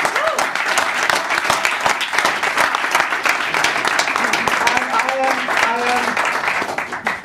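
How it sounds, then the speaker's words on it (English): A ceremony audience gives a sustained round of applause, loud and continuous throughout, with a few voices cheering faintly through the clapping. "Let's give Mahavir a big round of applause."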